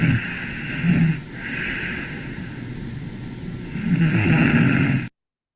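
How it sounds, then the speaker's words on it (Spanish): A sleeping child snores during a sleep study, with two rasping snores split by a quieter hissing breath, close and clear with no talking. "Luego empieza otra vez el ronquido."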